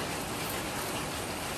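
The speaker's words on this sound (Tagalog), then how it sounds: "tapos malakas ang ulan" Strong typhoon rain falls as a soft, even wash of hiss, continuous and unbroken over a short stretch, with no one speaking.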